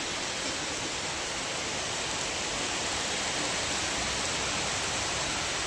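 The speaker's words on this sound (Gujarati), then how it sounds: "ચાલુ થઈ ગયો છે વરસાદ" Steady rain falls in a village downpour, a dense, even hiss that stays constant throughout with no talk or other sounds.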